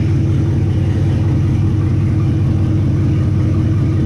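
A Ford Galaxie V8 engine with a flex fan runs close by, a loud steady low-pitched rumble with a dense, even throb, heard alone with no talking.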